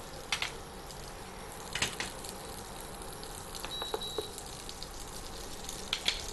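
Butter melting in a pan, a soft continuous sizzle and bubbling hiss with a few sharper crackles spaced through it, heard alone without talk.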